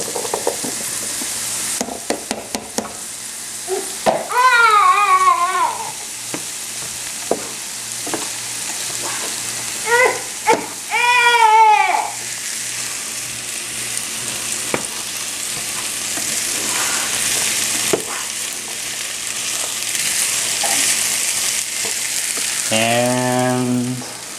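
Potatoes go into a pan of vegetables that have been sautéing for baby food, giving a steady sizzle with stirring and scraping, a few clattering knocks and scattered utensil clinks, all close and without talk.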